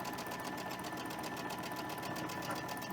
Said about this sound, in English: I'm just going to slip this little bit in there while I'm sewing this